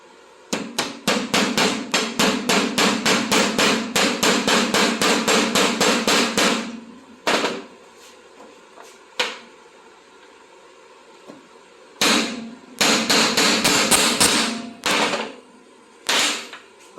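Rapid, loud hammer strikes drive a bearing into a John Deere Z track mower: a long steady run of blows, a pause with scattered single hits, then another burst of rhythmic hammering.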